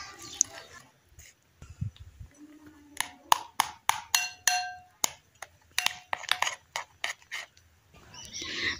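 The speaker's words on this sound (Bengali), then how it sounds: "এবার একটা চামচের সাহায্যে মিশিয়ে নিচ্ছি।" A spoon stirs and clinks through a powdered-milk batter for rasmalai in a bowl, giving a run of close, sharp tapping and scraping strokes in uneven rhythm, with short pauses between bursts.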